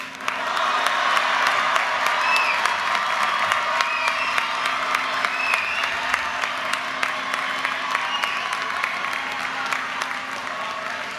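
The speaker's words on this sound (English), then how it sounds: "let's hear your excitement. Cheer loud and proud." A large graduation commencement crowd at the University of Maryland cheers and applauds loudly and steadily, with dense clapping, shouts and whoops filling the space for several seconds.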